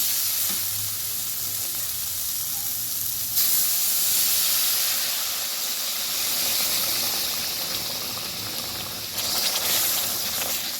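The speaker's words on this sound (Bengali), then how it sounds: "জলটা দিয়ে দিচ্ছি জলটা গরম জল" Hot water poured into a pan of frying bhola fish coated in Kashmiri chilli powder and spices, giving a loud, steady sizzle and hiss that surges at about 3 seconds and again near the end.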